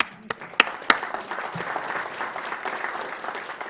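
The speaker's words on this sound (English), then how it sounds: "she deserves a round of applause." An audience at a state board of education meeting breaks into steady applause, with a few sharp claps standing out at the start, sustained throughout.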